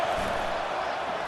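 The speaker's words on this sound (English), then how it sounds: "Decibels rising as the crowd gets behind this defense on third down." A stadium crowd roars steadily for the defense on third down in an EA Sports College Football game, a loud continuous wash of cheering with no break.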